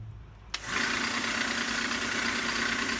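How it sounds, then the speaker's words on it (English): A belt sander with a worn 80-grit belt, used on a bearing-steel straight razor, switches on with a sharp click and then runs at a steady, loud whir that holds evenly to the end. "I was thinking to use my belt sander thusly"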